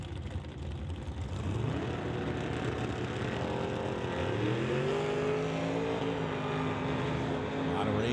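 Drag race cars, including a Blazer, launching off the start line at the T&T West Coast Classic, a loud engine roar building to a rising rev sweep as they pull away, with an announcer talking over it.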